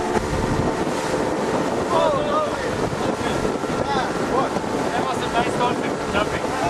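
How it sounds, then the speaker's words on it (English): A boat's engines roar steadily under heavy wind and water noise on a crossing toward the Krakatau islands, loud and continuous, with faint voices underneath. "The engines scream their lungs out as the boat is jetting westward."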